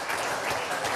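A studio audience at a televised football talk show bursts into brief, dense applause, loud and continuous for about a second.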